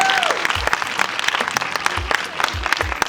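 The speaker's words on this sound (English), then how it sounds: "Round of applause for Funke Akindele." Audience clapping steadily at a movie premiere for Funke Akindele's Jenifa in London, sustained applause in a room with occasional scattered claps and cheers rising above the crowd.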